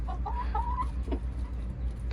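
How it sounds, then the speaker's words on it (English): Backyard chickens clucking softly nearby over a low constant hum, with short warbling calls from the flock and a rooster. "Look at the rooster coming here checking me out. Look at the chickens."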